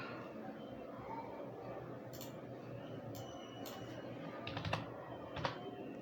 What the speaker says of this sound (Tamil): உங்களுடைய ரெஜிஸ்ட்ரேஷன் நம்பரை இதில் நீங்கள் டைப் பண்ணிவிட்டு